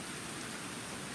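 Steady rain from Hurricane Ian pours down in a dense, even hiss, continuous and fairly close throughout, with no voices.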